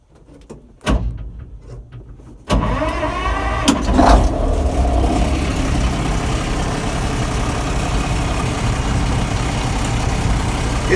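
A 1949 Kenworth 825 truck engine cranks and catches after a short quiet stretch, then settles into a steady, loud, smooth idle around 650 RPM on a cold 40-degree day, with no talk over it.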